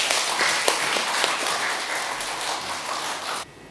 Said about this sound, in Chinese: 下面我们就以热烈的掌声欢迎钟老师做讲座